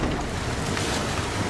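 A boat out on open water, a steady droning motor blended with rushing wind buffeting the microphone and splashing water, constant and loud throughout with no speech.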